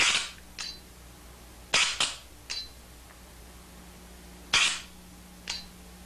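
An Automag AGD 68 paintball gun fires several sharp, close pops at irregular spacing, some shots in quick pairs, with short high hiss tails and quiet gaps in between.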